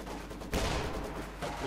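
Gunfire from a Soviet Maxim machine gun in a Company of Heroes 2 1v1 match, a dense continuous rattle of shots with a louder burst midway and another near the end, with battle noise throughout.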